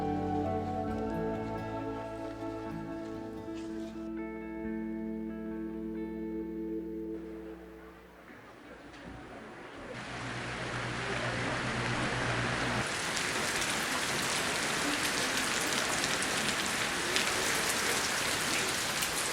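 Rain pours onto the roof tiles of a Korean temple. A dense, even hiss of falling drops follows fading music and keeps up at steady strength throughout.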